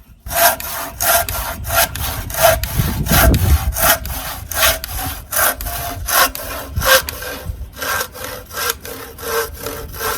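A hand saw rasps back and forth through wood in steady, rhythmic strokes, close and fairly loud, with no talking.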